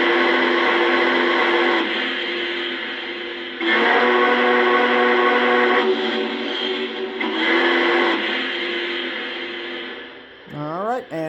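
Whistle of a Lionel TMCC model Norfolk & Western Class J steam locomotive, number 606, blowing in several long, loud chime blasts with brief gaps, then trailing off as a voice speaks at the end.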